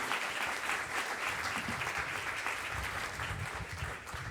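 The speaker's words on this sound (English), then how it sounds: "give a round of applause to a great panel discussion we had today" Audience at a foster care conference claps after a panel discussion, a moderate roomful of applause heard from some distance, fairly even and sustained throughout.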